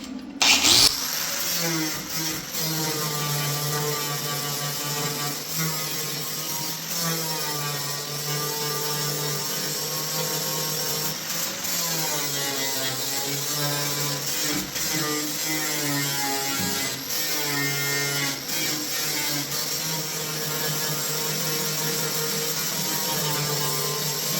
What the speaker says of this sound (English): Okay, so I just sanded that off.